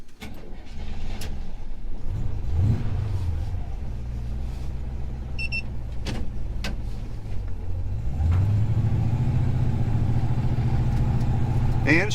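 Car fitted with a new Fitech EFI system running rich, its engine idling and rumbling nearby, the pitch rising as it revs and settling into a steady idle, with people talking over it.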